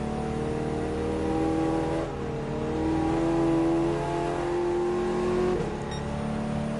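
Race car engine in the Gran Turismo 7 racing game, a steady loud drone with rising and falling revs and harmonic whine as the car accelerates through the final sector of a rally-style one-make race.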